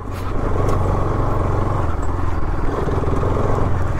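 A Bajaj Pulsar RS200 motorcycle rides off-road over rough, stony ground. Its engine runs loud and close, and the bike rattles and clatters the whole time.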